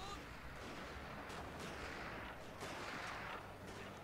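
Battle gunfire in the video game Total War: Fall of the Samurai, a dense continuous roar of distant volleys and artillery-like booms with no clear single shots.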